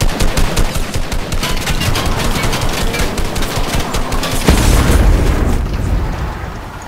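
Rapid gunfire bursts in Fortnite rattle loud and dense, with a heavy boom midway before the shots fade slightly, no voices heard.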